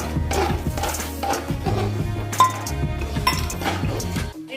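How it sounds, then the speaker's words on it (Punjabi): Magaz seeds being mixed into roasted flaxseed, flour and ghee in a pan, with steady scraping and stirring plus occasional metallic clinks of a spoon against the pan, close and clear. "ਹੁਣ ਆਪਾਂ ਇਹਦੇ ਵਿੱਚ ਮਗਜ਼ ਮਿਲਾ ਦਾਂਗੇ"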